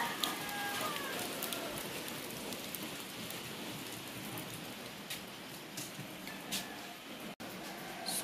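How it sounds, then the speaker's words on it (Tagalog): Heavy rain falls steadily in Mindanao, a dense continuous hiss of drops hitting surfaces with scattered louder patters and taps, moderately faint and without talk. "grabe talaga yung ulan guys. Simula pa yan kagabi, ayaw tumigil."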